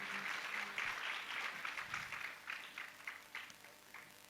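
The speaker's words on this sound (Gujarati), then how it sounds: "એટલે એમને તાળીઓથી વધાવો." Applause at a Sunday religious gathering in Jetpur: a crowd claps together, quite soft and distant, growing into rhythmic pulses that gradually fade out, with no speech over it.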